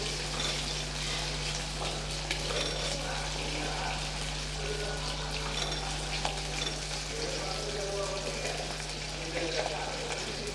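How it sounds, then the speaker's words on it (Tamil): A handful of garlic sautéing in a pan for fenugreek kuzhambu, a continuous dense sizzle with faint stirring scrapes throughout. "ஒரு கைப்பிடி பூண்டு, அதையும் அப்படியே சேர்த்துக்கலாம். நல்லா சேர்த்து வதக்கி விட்டுறலாம்."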